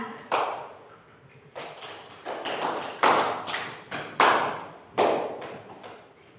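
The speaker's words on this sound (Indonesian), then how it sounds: "Ya, tepuk tangan." Schoolchildren in an elementary classroom clap hands in several short bursts of sharp claps, each fading quickly, moderately near with room echo.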